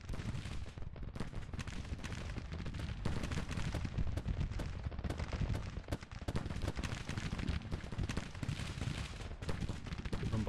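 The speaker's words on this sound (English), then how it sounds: "Bombarding there, which looks perfect." Artillery bombardment in Grand Tactician, a dense, continuous barrage of distant cannon thuds and crackling gunfire rolling steadily at low volume without a break.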